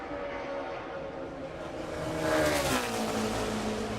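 A NASCAR Xfinity stock car laps the Indianapolis Motor Speedway during qualifying, its engine a steady loud drone that climbs in pitch and swells as it draws nearer, then sweeps down as it passes.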